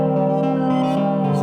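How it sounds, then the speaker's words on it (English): Gnarly, buzzy synth in a rock track, a dense sustained chord rich in harmonics held steadily and loudly with slight swells, no voices. "Some gnarly synth coming in there."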